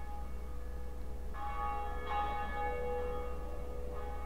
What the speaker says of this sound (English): We rang the first bell.